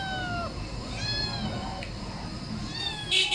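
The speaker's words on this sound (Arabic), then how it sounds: "ثلاث قطط لونهم أبيض، ولدين وبنت" Several white Shirazi Persian kittens, about 50 days old, meow repeatedly in high, rising cries inside a pet shop, close and clear over a busy background of voices and shop noise.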